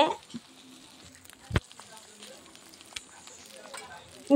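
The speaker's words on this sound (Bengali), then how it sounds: "এটাকে আমি আবারও ভালো করে ভেজে নেব।" Turmeric and spices frying in a pan, a faint sizzle with occasional clinks and scrapes of stirring and a sharp knock midway, under brief bits of talk.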